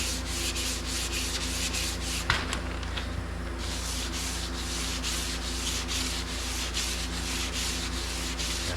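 Sandpaper on a flat block rubs steadily over auto body filler during a DIY body repair, a continuous close scratchy rasp with light, even strokes and no talking.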